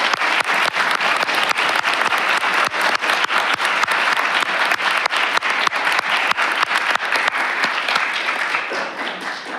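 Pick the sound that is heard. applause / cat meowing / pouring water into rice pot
applause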